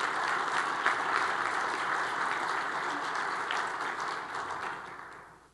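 A crowd at a city's State of the City address breaks into sustained applause, dense and steady clapping that gradually fades over several seconds.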